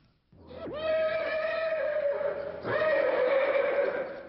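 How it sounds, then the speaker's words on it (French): A horse lets out a loud, close whinny that rises and holds, then breaks into a second long neigh after a short dip. No other sound competes with it. The horse is a racehorse that was not used for the Marie-Burgot tiercé races. "ce cheval est réapparu ce soir"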